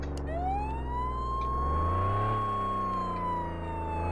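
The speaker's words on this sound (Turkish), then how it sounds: "Sirenlerimiz var." Police car siren in the Flashing Lights emergency-services game, a loud steady wail sliding slowly up and back down over a low engine hum, with no talking.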